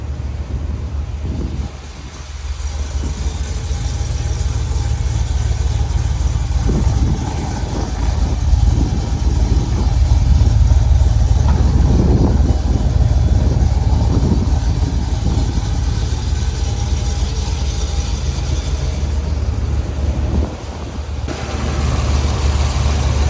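A Cadillac Escalade with an LT4 engine running on E85 fuel idles with a deep, steady rumble, close and loud, its tone swelling slightly mid-clip before settling back.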